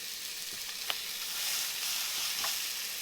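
Smash burger taco patties sizzle in an oiled, smoking-hot pan, making a steady, bright frying hiss with a few small pops, heard up close with no talking.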